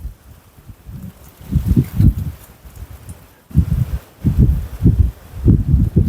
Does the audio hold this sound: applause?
no